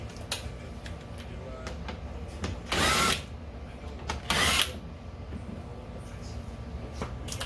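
A power drill taking out license plate bolts on a Jeep Gladiator's rear bumper, two short loud whirring bursts with quiet handling noises in between.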